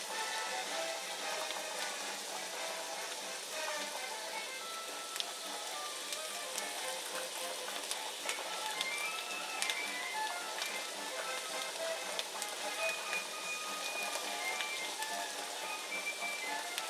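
Whole onion chunks sizzle and spit in a frying pan, a steady fine crackle with scattered sharp pops that holds evenly throughout at moderate level.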